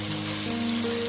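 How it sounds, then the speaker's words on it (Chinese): Eggs frying in a pan on the stovetop while they are turned to cook the other side, a steady close sizzle that stays level and continuous throughout, with no voices. "翻过来煎另一面"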